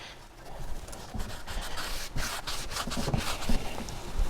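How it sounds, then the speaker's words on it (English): A rag soaked in acetone wiped along the metal of a Vevor 8x14 mini lathe, making a continuous close, soft rubbing and scratching sound with irregular strokes. "just wiping along here, and then just get in under there where I'll be mounting the pickup too"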